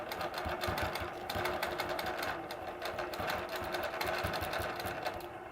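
A sewing machine runs steadily while quilting scroll borders with an S-curve template, its rapid needle rhythm continuous and close throughout.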